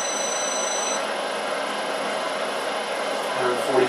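Grizzly G0752 lathe spindle motor starting and running, a steady mechanical whine with a high tone that changes after the first second, a low hum joining near the end.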